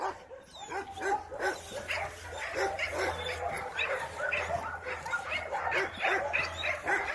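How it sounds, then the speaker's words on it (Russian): Several laika hunting dogs bark and yip continuously in a kennel in Yakutia, overlapping one another at a steady, busy pace, with some whining mixed in. "в питомнике находятся три вида лаек"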